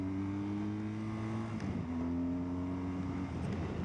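A water-cooled BMW R1200GS Adventure motorcycle engine drones steadily, then its pitch drops briefly and climbs again as it pulls harder under acceleration, loud and continuous with wind noise and no talk.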